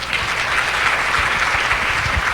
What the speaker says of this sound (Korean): 박수가 힘이 돼요